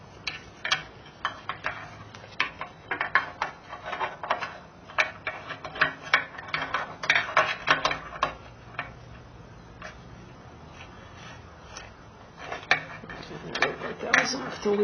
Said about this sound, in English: So I'm going to go ahead and get my crescent wrench in there.